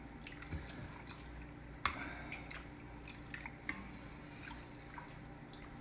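Cheese curds are stirred in water to melt them, producing faint wet squelches and soft drips that sit close but quiet over a low background hum, with one slightly sharper splash partway through.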